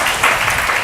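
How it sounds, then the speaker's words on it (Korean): Church congregation clapping at a Sunday service, a loud, dense burst of many hands close by, lasting under a second. "박수 해줍시다"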